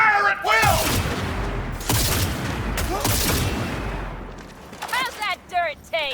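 Rapid gunfire rattles through a Cyberpunk 2077 firefight in dense, overlapping volleys, close and loud, while shouting voices break in at the start and end.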